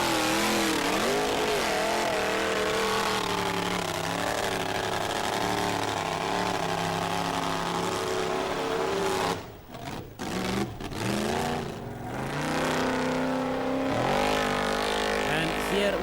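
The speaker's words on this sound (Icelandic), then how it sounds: "Jón Gesson var í vandræðum meiri hluta keppninnar með ganginn í bíl sínum." Modified special-class rally cars race at the 2004 Akureyri event, engines roaring loud and continuous with rising and falling revs, a brief lift-off dip midway before the high-pitched howl resumes, with faint speech blended in.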